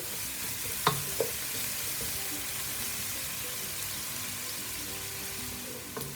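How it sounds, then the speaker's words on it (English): Garlic and ginger sauté in a pan with a steady, soft sizzle. A couple of sharp utensil clicks come early on and one near the end. No one speaks. "So we'll saute that a little bit before I add my fresh vegetable."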